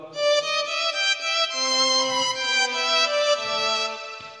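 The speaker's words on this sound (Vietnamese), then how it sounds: "Tiếp theo thầy sử dụng đó là tiếng violon." A violin melody with smooth, sustained bowed notes flowing one into the next, played solo and fairly soft.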